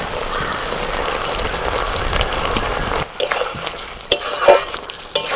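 Ridge gourd and potato with poppy seed paste stirred in a pan, a close scraping, sizzling stir that goes on steadily, with a few sharp utensil knocks near the end.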